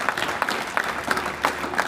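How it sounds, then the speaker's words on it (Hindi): An audience claps at a girls' honour ceremony, a short close burst of applause with distinct, uneven hand claps. "उसके लिए संदीप कुमार जी के लिए ताली बजाइए"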